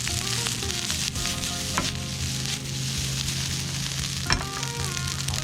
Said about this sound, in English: Now you can hear the little kernels of, little grains of rice I should say, starting to crackle